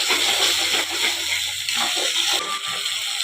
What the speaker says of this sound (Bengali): বাটিটা ধুয়ে একটু জল দিয়ে দিলাম।